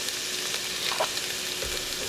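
Finely minced garlic and roughly chopped onion, seasoned with salt, sizzle steadily in a pan with ginger, a soft continuous frying hiss with a brief stir partway through and no talking.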